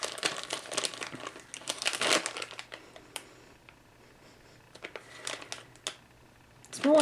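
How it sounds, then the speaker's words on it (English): Plastic bag of gummy candy torn open by hand, bursts of loud crinkling and crackling that pause and resume, ending with a short voiced sound. "a bag I can open without scissors"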